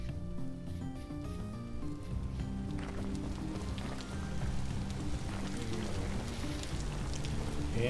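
Steady rain in a survival video game, a dense broadband hiss running the whole time beneath layered game music and sound effects, with no speech.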